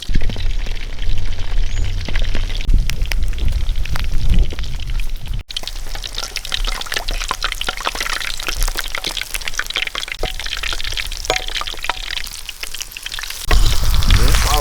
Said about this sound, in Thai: เราจะมาทำการทอดนะ